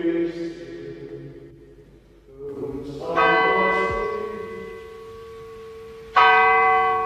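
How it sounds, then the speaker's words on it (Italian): A Carthusian monastery church bell, now rung by computer, tolls inside the church with strong ringing overtones, one clear strike around the middle and another loud strike near the end, each sustaining and slowly fading. "Ormai la campana è regolata da un computer"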